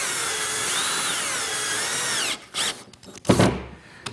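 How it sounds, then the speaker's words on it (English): A power drill drives 1 5/8-inch screws into a glued kitchen island end panel, its whine rising and falling steadily for about two seconds before breaking into short bursts and clunks of the tool and panel. "I'm going to line it up and attach everything with some 1 5/8" screws."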